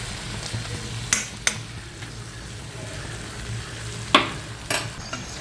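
Sweet potato slices coated in jaggery and ghee being sautéed in a pan, with a steady low sizzle and a few sharp scrapes and clicks of a spatula stirring, close and without talk.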